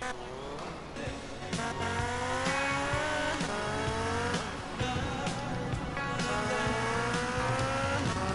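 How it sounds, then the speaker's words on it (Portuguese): Engine revving and rising gear-shift whines as a motorcycle is ridden in Grand Theft Auto: Vice City, loud and close, with repeated acceleration sweeps over several seconds and faint talk underneath. "Pega a moto aí, Tommy."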